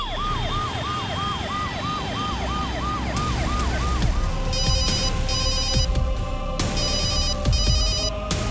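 A telephone in a crime-drama scene rings unanswered in repeated short electronic bursts, following a wailing emergency siren that sweeps up and down at the start, all fairly loud over a steady background hum.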